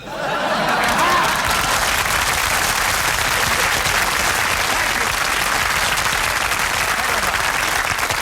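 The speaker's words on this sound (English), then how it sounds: "you bring the egg out to a thunderous applause" A studio audience at a 1973 television comedy show breaks into loud, sustained applause, dense and continuous from start to finish, with a few chuckles mixed in.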